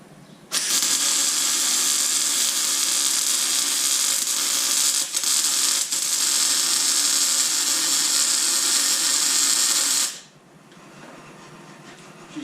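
A Socome MIG welder lays down a weld, with a loud, continuous crackling buzz that holds for about ten seconds, briefly stutters once or twice, then cuts off, leaving a low hum.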